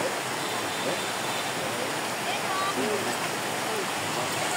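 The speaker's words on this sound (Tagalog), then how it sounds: "Ito yung ilog." A river flowing near waterfalls in Santa Maria, Laguna, where people swim, giving a steady broadband rush of water that fills the whole stretch evenly, with no breaks and no clear talk on top.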